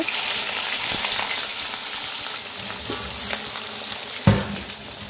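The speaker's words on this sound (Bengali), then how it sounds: "ভালো মা মাছ ভাজছে" Fish frying in a home kitchen pan: a steady, close broadband sizzle runs throughout, with a few soft knocks and one sharper clack near the end.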